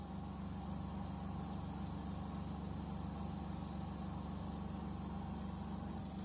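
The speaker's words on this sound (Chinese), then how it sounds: "这个开关打开，脱水，听一下它在转动了。" A semi-automatic washing machine's spin-dry motor runs with a continuous, even hum and a faint regular pulsing, steady and moderately quiet throughout, with no other sounds.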